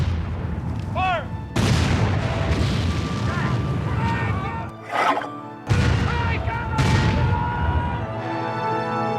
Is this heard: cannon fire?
yes